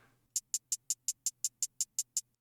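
A run of eleven crisp hi-hat ticks from a beat, evenly spaced in a quick steady rhythm, bright and close, played alone.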